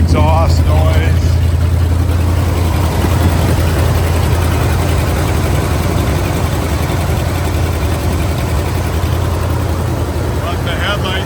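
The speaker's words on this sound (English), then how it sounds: "Got some exhaust noise." A 1978 Ford F150 truck engine idles with exhaust noise, a loud, steady low rumble that runs unbroken throughout, while a person talks over it.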